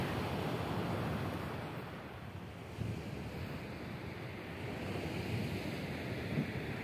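Sea waves rolling onto the shore at Gagra, Abkhazia, at sunset, a steady broadband wash with gentle swells and slight wind noise, moderately loud and continuous, no voices.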